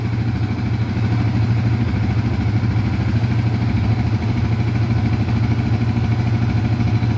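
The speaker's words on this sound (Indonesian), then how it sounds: "Sekarang saya tombol ya, kalau motor normal langsung bunyi ya" A Yamaha Vixion motorcycle engine idles steadily and close by, a smooth, even low-pitched putter with a fine rapid pulse that holds constant for the whole stretch with no revving or voices.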